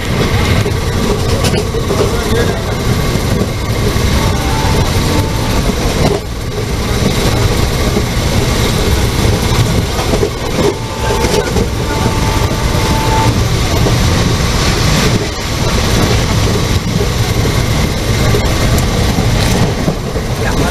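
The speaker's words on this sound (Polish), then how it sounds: "Jedziemy dalej pociągiem, jest całkiem przyjemnie." The interior of a moving train at night carries a loud, steady rumble with faint rhythmic track clatter throughout, and muffled voices now and then.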